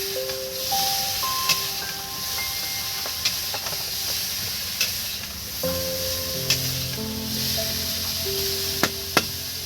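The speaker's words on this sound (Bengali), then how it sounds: "ফুলকপিটা আমি ভালো করে ভেজে নেবো" Salted cauliflower florets sizzle steadily in a hot pan, a continuous frying hiss with occasional sharp crackles and pops, accompanied by soft melodic tones.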